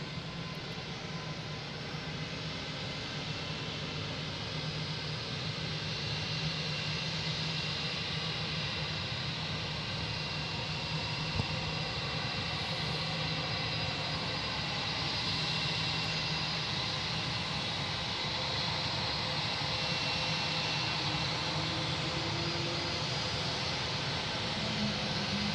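An American Airlines jet arriving at Boston Logan from Charlotte produces a long, steady engine roar with a broad rumble and a hissing upper layer, holding at a constant close level throughout.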